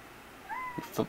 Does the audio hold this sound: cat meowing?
yes